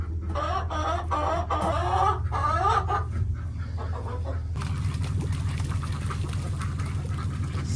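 Ducks and chickens clucking and quacking in a backyard flock with two drakes, a busy overlapping chorus of calls close by that turns denser and more quack-heavy in the second half.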